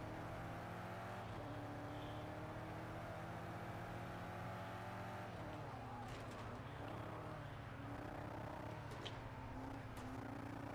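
A race car engine in Project Cars 2 at the Red Bull Ring drones loud and steady for ten seconds, the pitch sweeping as it shifts and revs, with faint clicks on top.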